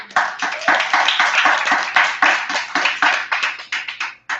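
An audience at a live relationship forum applauds a panelist being introduced, a dense, steady wash of many hands clapping close and loud for about four seconds, with faint voices beneath.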